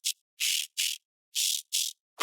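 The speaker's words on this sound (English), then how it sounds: "So we just have a frequency shifter on the highs." High synth tones processed through a frequency shifter in an electronic remix come as five short, bright, noisy bursts in an uneven rhythm with silence between, each hissy and crisp.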